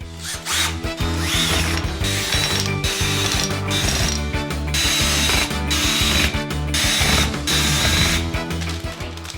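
Loud, continuous whirring and ratcheting of a power tool, close by, with steady grinding pulses and brief interruptions, no talk over it.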